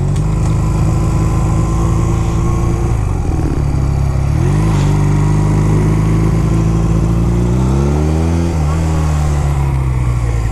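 A 2006 Honda Rebel 250 motorcycle cruises at about 55 mph on a Pennsylvania highway, its engine droning loud and steady with wind rush, dipping and rising in pitch at a few gear or throttle changes.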